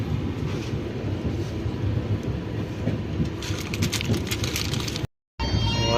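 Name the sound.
heavy rain heard from inside a train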